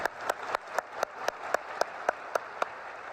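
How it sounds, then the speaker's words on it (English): Applause for faculty at a study abroad orientation event, a small group clapping in a quick, even rhythm of about a dozen distinct claps, fairly faint and close, with no talk over it. "just a big round of applause and shout out to our faculty."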